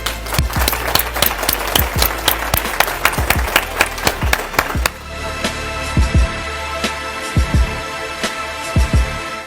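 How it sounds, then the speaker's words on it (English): An audience of women at a Dress for Success program graduation claps steadily, a loud, dense round of applause with sharp individual claps standing out, thinning toward the end. "So give yourselves a round of applause."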